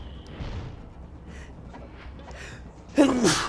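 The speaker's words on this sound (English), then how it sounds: "Oh shit, I'm gonna sneeze." After a quiet stretch with faint rustling, a single loud, abrupt sneeze bursts out near the end.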